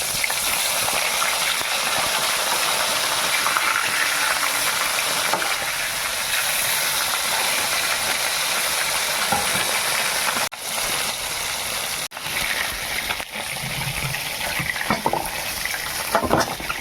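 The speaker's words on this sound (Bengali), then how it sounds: "এরকম সব মাছগুলো ভেজে নেব" Bhola fish frying in a pan for a tamarind-tomato sour curry, a steady loud sizzle of oil carrying on throughout with a few brief dips and clatters near the end.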